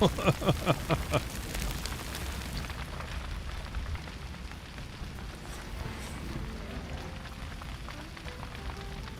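Rain falls in the video game Stars Reach on a dangerous planet, a dense steady patter and hiss that follows a few sharp rhythmic impacts at the start, carrying on alone at moderate level.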